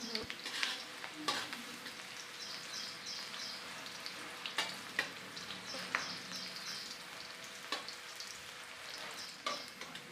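Steady sizzling of garlic frying in hot oil, with occasional crackles and the scrape of stirring throughout.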